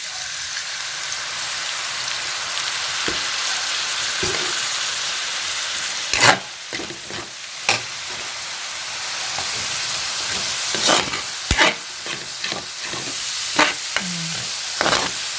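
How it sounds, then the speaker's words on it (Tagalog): Soup ingredients sautéing with fish sauce in a pan for a Filipino sopas: a steady, close sizzle runs throughout, broken by sharp clanks and scrapes of stirring that cluster in the second half. "Gigisa nyo, ayan."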